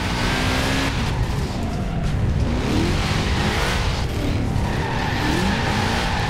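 BMW X6 M drifting in Forza Horizon 4, a loud, continuous engine roar mixed with sustained tire squeal and skidding, pitch sliding up and down as the car slides, with no talking.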